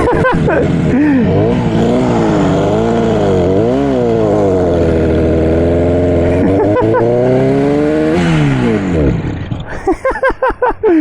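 A purple 1967 Yamaha YR1 motorcycle engine revs loudly and close, its pitch swooping up and down with each throttle blip before breaking into a choppy, uneven idle.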